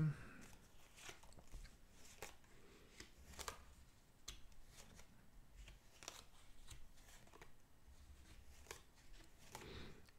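Tarot cards being cut and handled, giving soft intermittent riffling and tapping clicks at close range, with quiet faint rustles in between and no voice over them.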